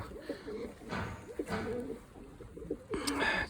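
Low, throaty pigeon coos repeat in short phrases, fairly close, over a soft background rustle.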